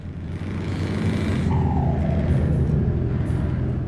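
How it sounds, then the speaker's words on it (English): A heavy truck engine in Euro Truck Simulator 2 drones steadily and rumbles as it pulls under load. A faint whine rises briefly partway through, and there is no talk. "This truck sounds like the biggest fart in history."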